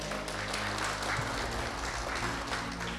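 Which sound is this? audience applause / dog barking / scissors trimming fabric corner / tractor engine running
audience applause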